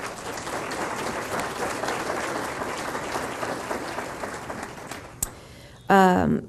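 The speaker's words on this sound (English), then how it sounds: "So please give a round of applause for all of our sponsors." A conference audience at a health-community keynote event applauds the sponsors with dense, sustained clapping that fades after about five seconds, then a speaker's voice comes in over a microphone.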